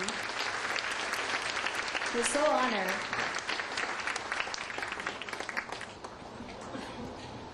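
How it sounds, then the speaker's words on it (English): A ballroom crowd at a New York newspaper's 40th anniversary celebration applauds steadily, a dense wash of clapping that swells briefly and then fades, with someone speaking over it and a short whoop partway through. "And a big round of applause, please,"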